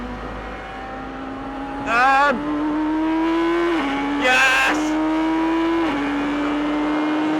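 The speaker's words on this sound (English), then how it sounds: "A full-on race car!" A Radical race car accelerates hard on a track, its engine note climbing steadily through gears with brief louder bursts at each shift, close and continuous, with a driver's excited shout over it.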